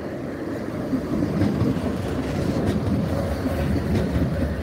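A Nottingham tram rumbles and clatters nearby, its wheels rolling steadily over the rails as it draws in to a stop, loud and continuous with no talking.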